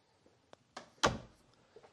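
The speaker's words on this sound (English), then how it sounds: "Oh, what is behind this door?" Linen closet door in a Prosper, Texas home opening, a few small clicks leading to a sharp latch release and a solid thunk, close and isolated with no talking.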